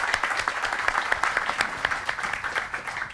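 An audience at a museum seminar applauds a guest curator, dense, lively clapping from many hands with sharper individual claps popping out of the steady patter.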